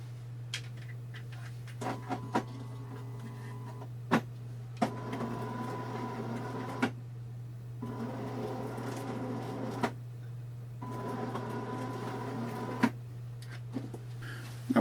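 A small R2D2 dome motor runs off a Ryobi-style battery through a motor controller, a faint whirring hum in several runs of two to three seconds each, separated by clicks and short pauses over a steady background hum.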